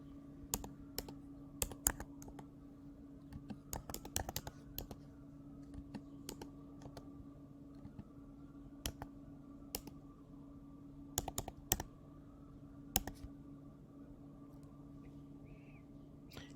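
Fingers tap a computer keyboard while filling spreadsheet cells, producing quiet, irregular clusters of crisp key clicks against a low background hum, with no voices.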